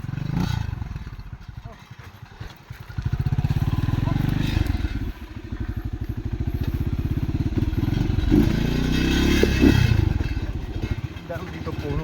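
A motorcycle climbing a mountain road on Mount Banahaw, its engine chugging in steady low pulses that rise and fall with throttle, amid rattling and thumps from the rough track, with a rider talking over it.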